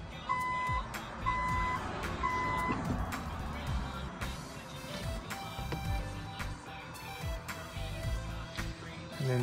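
A car's reverse system beeps: three short, evenly spaced electronic tones early on over a busy background of noise and faint talk.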